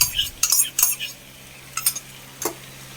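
A spoon scrapes and stirs through curd folded into chicken biryani masala with tomatoes in a pot, making several short clinking, scraping strokes early on and a couple more after a pause, close and clear with no talk.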